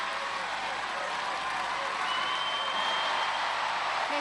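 A television studio audience at a Gladiators arena event applauds and cheers continuously, a dense, steady wash of clapping and crowd noise that stays loud throughout.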